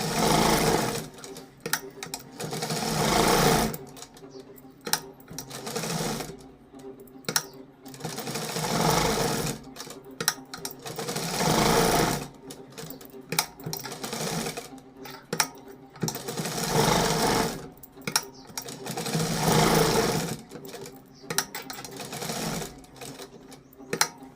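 A sewing machine stitches a hook strip onto a princess-cut blouse, its needle whirring in several sustained runs separated by short pauses, close and clear with no talking.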